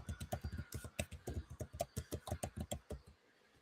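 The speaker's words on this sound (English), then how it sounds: "I know you hear me typing." Fingers type steadily on a computer keyboard, a rapid run of close, crisp key clicks in an uneven rhythm that stops near the end, with no talking.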